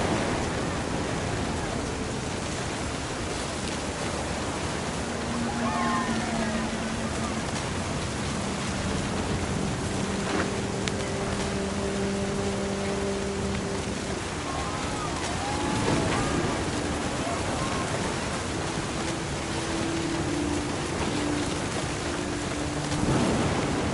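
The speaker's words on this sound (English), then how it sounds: "The thunder sounded much too close and full of angry power" Steady rain hisses in the video game What Remains of Edith Finch, with low distant thunder rolling beneath and faint tonal game sounds drifting in and out.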